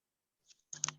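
A computer mouse click sounds as a quick, faint double tick in a quiet room, preceded by a softer tap.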